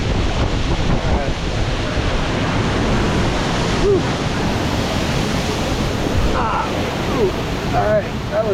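Steady roar of a jungle waterfall with rushing water in a rainforest near Medellín, El Salado, dense broadband noise filling the whole stretch close to the microphone, with a few faint voices and short chirp-like sounds over it.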